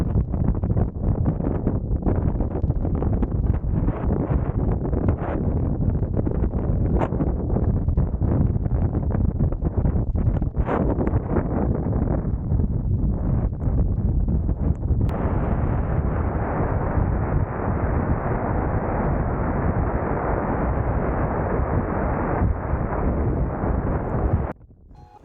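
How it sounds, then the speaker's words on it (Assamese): Strong wind buffets the microphone in a constant heavy rumble with gusty surges at a crater lake in Iceland, loud and unbroken for the full stretch until it drops off at the end. "শুনিলেনে বতাহৰ প্ৰকোপটো"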